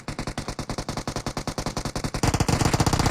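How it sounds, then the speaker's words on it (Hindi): Rapid bursts of automatic gunfire in the PUBG video game crackle in a steady rhythm, loud and close, turning denser and heavier toward the end as the firing intensifies. "दूर से किंग चीकी साहब जो है ना फिर से नॉक, बिना देखे इन्होंने गोलियों को ग्रेनेड फेंक और उनके घर के ऊपर हमला"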